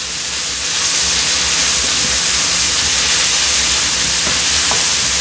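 Brussels sprouts pressed flat in a hot skillet give a steady, loud broadband sizzle and hiss that holds through the whole stretch, with a few faint clicks of the pan beneath it and no talking.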